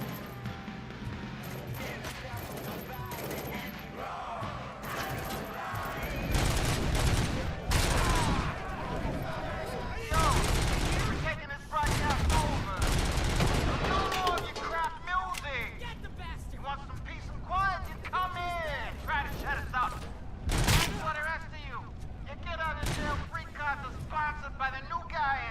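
Gunfire in a prison shootout in the video game RoboCop: Rogue City: loud bursts of rapid shots and crashing impacts come in clusters throughout, with a voice talking over the fighting.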